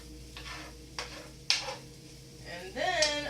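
Fried rice being scooped, folded and mixed in a pan, with a few distinct scraping strokes of a utensil over a low sizzle, close and moderately quiet, and a brief voice-like sound near the end.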